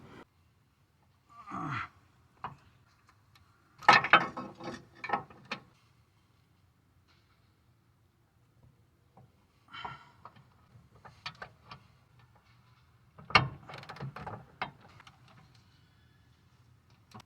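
A ratchet works on the 17mm wheel bearing bolts of a Mitsubishi Outlander in a few separate clicking, clanking bursts with quiet gaps between them, fairly close, with no talk.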